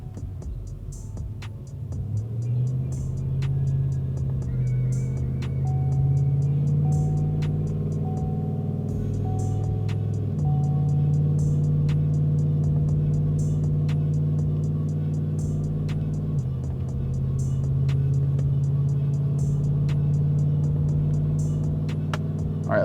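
A supercharged 2014 Sierra with a 5.3 engine and BTR 220 cam drones steadily from inside the cab, rising in pitch as it accelerates, easing off partway, then pulling again.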